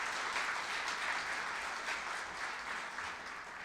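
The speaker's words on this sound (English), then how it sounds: "Big round of applause for all of those." Sustained round of applause from a Rotary club meeting audience, dense steady clapping throughout the short stretch with no pauses, filling the room at an even, moderately loud level.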